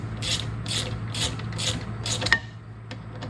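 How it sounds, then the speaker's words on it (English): A ratchet wrench tightens a sway bar end-link nut on a 2004 SRT4 during a Hotchkis sway bar install, giving a run of about five rhythmic clicking bursts, close and moderately loud, followed by a sharp click and a quieter tick. "All I'm going to do is I'm going to tighten this up some."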